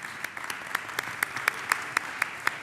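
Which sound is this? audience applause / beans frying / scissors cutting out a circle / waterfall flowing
audience applause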